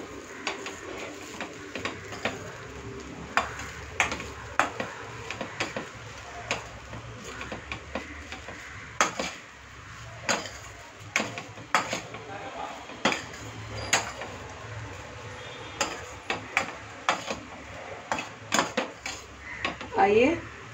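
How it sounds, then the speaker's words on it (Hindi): Mango rice being gently stirred in a pot, with soft irregular scrapes and light clinks of a spoon against the metal, steady and close over a faint background hum. "हल्के हाथों से एकदम पूरा मिक्स कर देंगे।"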